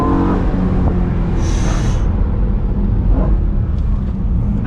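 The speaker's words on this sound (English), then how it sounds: "that motor, you hear that motor, dude? Sounds crisp" A 2011 BMW E93 M3 engine runs steadily close by, a loud continuous low rumble with a brief higher whine partway through, no voices present.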